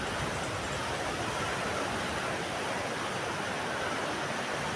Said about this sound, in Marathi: याला म्हणतात खवळलेला समुद्र.